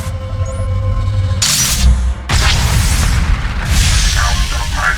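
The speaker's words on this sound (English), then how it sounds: "Sound of my flux cannons incinerating one of your capital ships." Heavy booming flux cannon blasts and explosions in the video game Star Wars: The Old Republic, loud and close, with a rumbling roar and crackling debris after each burst.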